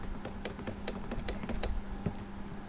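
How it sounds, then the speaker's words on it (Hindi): Keys tapped on a computer keyboard during an Excel spreadsheet lesson, a handful of sharp clicks spread across a few seconds, fairly faint over a low steady hum. "अगर मैं कंट्रोल दबा के डी दबाऊंगा तो ऑटोमेटिकली ये प्रिंट करेगा।"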